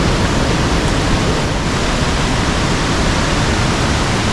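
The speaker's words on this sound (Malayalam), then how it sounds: "അങ്ങോട്ടേക്ക് വെള്ളം നല്ല രീതിയിൽ ഒഴുകുന്നുണ്ട്" Water rushing strongly down a stream near a resort in Munnar, a loud, dense, continuous roar with no other sounds or voices.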